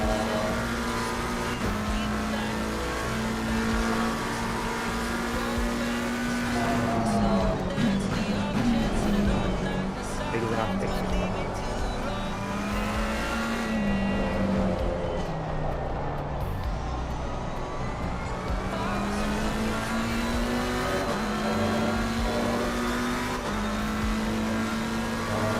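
A race car in the Assetto Corsa Competizione sim racing game at Silverstone, with its engine droning and shifting pitch steadily throughout under a higher-mixed tyre noise, continuous and close.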